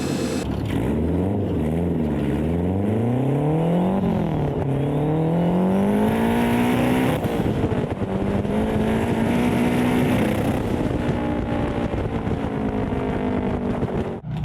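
A turbocharged truck drifting a lap on a circuit, its engine loud and close, revving up and down in long rising and falling sweeps with a rough, breaking-up tone throughout.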